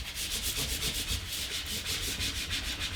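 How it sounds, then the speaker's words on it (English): A vinyl decal being burnished onto transfer tape, heard as a close, rhythmic back-and-forth rubbing and scraping with about a dozen even strokes over a few seconds, with no voices. "So the reason for burnishing or pressing or scraping is so that you get a nice even stick on your decal onto the transfer tape"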